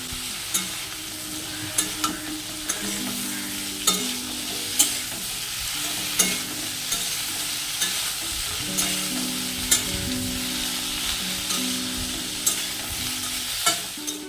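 Teasel gourd (kakrol) pieces with turmeric and salt fry in a pan, a steady close sizzle broken by regular clacks of a spatula stirring and scraping, with no talk over it.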